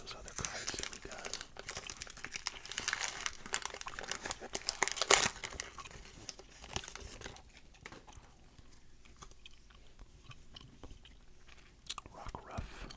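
Pokemon card pack wrappers from a Paldea Adventure Chest crinkle and tear up close, a dense and busy rustle that thins out partway through, with quiet mouth sounds and soft whispering nearby.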